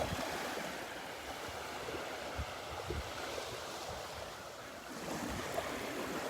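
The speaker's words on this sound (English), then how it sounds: "soaking in the sounds of the waves" Ocean waves wash steadily onto a beach in North Naples, Florida, a continuous broadband surf roar with gentle swells and light wind, no voices.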